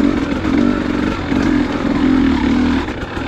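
Motorcycle engine humming steadily in third gear on an open ride on a cool fall day, loud and close with wind rush and slight pulsing in engine pitch, no talking.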